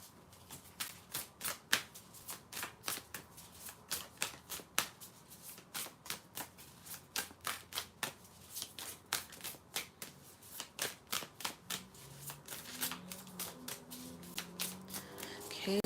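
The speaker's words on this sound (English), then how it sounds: "Okay, shuffling for Taurus." Tarot cards are shuffled close up in quick repeated bursts of crisp riffling and slapping, with a soft voice murmuring near the end.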